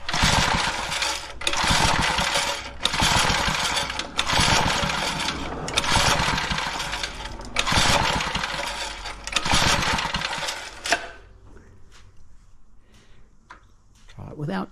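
A pre-war Riley Brooklands engine cranks and fires in loud, rough bursts that catch and stumble repeatedly, then cuts out, leaving quiet clicks and a few faint sounds.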